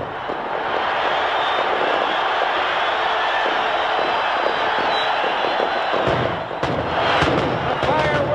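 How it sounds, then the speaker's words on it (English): Fireworks bursting over Comiskey Park as the White Sox clinch a 4-3 win, a dense roar of explosions and crowd noise running continuously throughout, with sharper pops near the end. "The fireworks are off."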